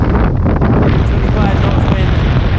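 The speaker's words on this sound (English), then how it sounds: "Bashing into wind against tide." Strong, steady wind roars across the microphone aboard a Hallberg-Rassy 54 sailing yacht beating upwind in about 25 knots against the tide off Martinique, a dense continuous rush with the boat's motion and water beneath.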